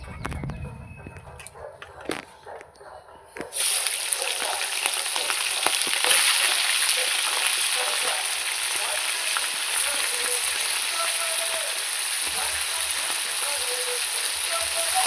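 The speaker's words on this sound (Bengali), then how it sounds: "ফোড়নটা হয়ে গেছে এবার মাংসটা দিয়ে দেবো প্রথমে" Chicken pieces dropped into hot oil with whole cumin tempering, a few clinks and quiet handling, then a sudden loud, sustained sizzle that stays close and steady with stirring crackles.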